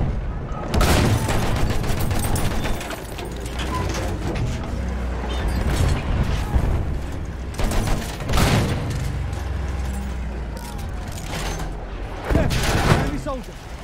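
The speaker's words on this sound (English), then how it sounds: "There's an enemy machine gun!" Dense battlefield gunfire from a Battlefield 1 match, with bursts of enemy machine gun fire and heavy booms cutting through continuous loud combat noise, peaking in several sharp blasts and a burst near the end.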